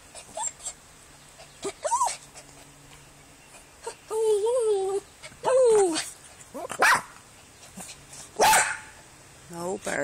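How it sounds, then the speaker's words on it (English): A dog barks and whimpers in short bursts, some yelping and whiny, with gaps between, close by and fairly loud. "Barking."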